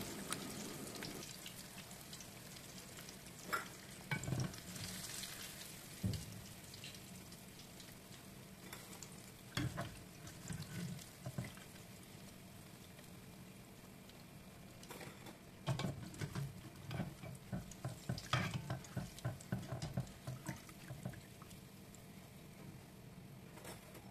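Battered cempedak pieces fry in hot oil, a faint, steady sizzle broken by irregular clinks and scrapes as they are stirred.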